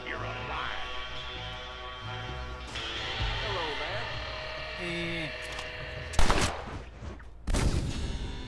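Gunfire from a Red Dead Redemption shootout: two loud, sharp bursts near the end break through a busy bed of game music and effects, with a voice speaking over it.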